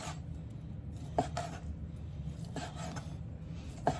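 A knife cuts sausage into pieces for chicken and gravy, giving a few sharp, distinct taps against a board or pan spaced a couple of seconds apart over a low, steady room hum.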